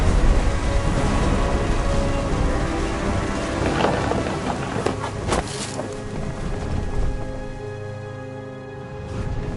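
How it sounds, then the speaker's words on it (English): Thunder rumbles over steady, heavy rain in the game What Remains of Edith Finch, a broad continuous downpour with sharp crackling bursts near the middle before the roar eases slightly. "The thunder sounded much too close and full of angry power."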